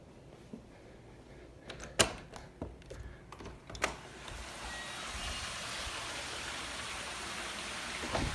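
A waterfall splashes into a large backyard swimming pool with a diving board and hot tub. A steady, moderate hiss of falling water builds after a few scattered knocks and taps, and no one speaks.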